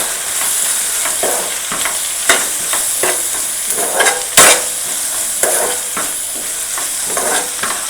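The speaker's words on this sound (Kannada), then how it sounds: "ಚಿಲ್ಲಿ ಪೌಡರ್ ಮತ್ತು ಸ್ವಲ್ಪ ಅರಿಶಿನದ ಪುಡಿ ಇವಾಗ ನೀಟಾಗಿ ಮಿಕ್ಸ್ ಮಾಡ್ಕೋಬೇಕು" Chilli powder and turmeric stirred into oil in a pan for an eggplant palya, loud close sizzling with repeated rhythmic scraping strokes of a spoon and a sharp clatter midway, no voices.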